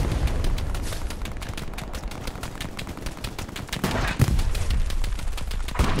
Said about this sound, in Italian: Senti proprio i colpi che ti passano sopra